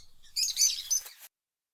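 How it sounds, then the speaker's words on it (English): Birds twittering outdoors, a short burst of bright, high chirps that cuts off abruptly into silence. "A brief, airy space flecked with my scrubbing brush and birds twittering outside."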